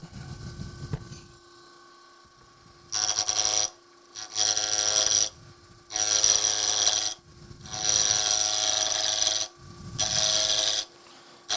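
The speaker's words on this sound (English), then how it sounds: "just use my carbide tool here" A carbide turning tool cuts a wood blank on a lathe, rounding it for a club demo lidded box. Loud, rasping cutting comes in about five sustained bursts separated by short pauses, over a steady low motor hum.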